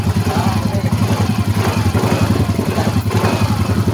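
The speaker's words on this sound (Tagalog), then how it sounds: "Nanginginig yung motor." A Yamaha Mio 125 motorcycle engine idles roughly with misfiring, an uneven, shaking rhythm of low mechanical pulses, heard up close and fairly loud.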